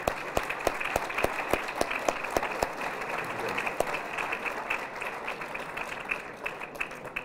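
Volunteers being honored at an Albuquerque city news conference receive applause: a crowd claps steadily at moderate distance, with a few sharp, loud individual claps standing out near the microphone early on, and murmuring talk faintly underneath.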